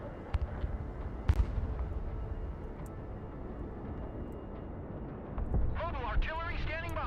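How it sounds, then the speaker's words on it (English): Rocket artillery firing in the modern-warfare strategy game Broken Arrow: several sharp distant launch bangs and booms over a low rumbling battlefield, ending in a swelling whooshing roar of rockets. "Rocket artillery at your command, sir."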